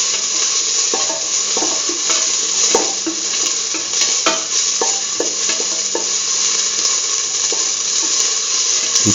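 Onion pieces sauté in a pan for a curried lentil egg stew, with a constant loud sizzle and frequent spatula scrapes and taps against the pan, close and without talk.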